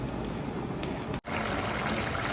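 A pot of Jaffna-style chicken curry boils steadily, giving a dense, continuous bubbling hiss up close, with one brief dropout midway.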